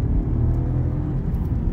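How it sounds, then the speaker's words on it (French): Steady low engine rumble from a 2023 VW T-Cross with its small 1.0 TSI three-cylinder and DSG7 gearbox, driven in sport mode, holding a dense, continuous drone from close inside the car with no talking. "C'est un petit moteur de 3 cylindres, mais franchement, il s'en sort très très bien."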